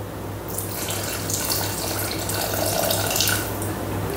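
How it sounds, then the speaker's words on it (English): Dry white wine pours steadily into a Thermomix bowl, a continuous close splashing, gurgling stream lasting a few seconds with no talk. "So we want 100 grams of dry white wine."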